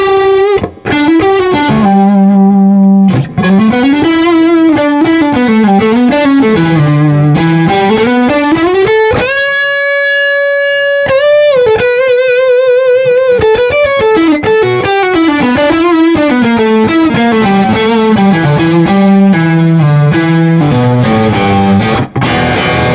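An electric guitar played through a Bogner Ecstasy Red overdrive pedal with the bass control raised gives a thick, saturated tone. Sustained distorted notes and bends are played alone, with a brief high, ringing chord passage in the middle.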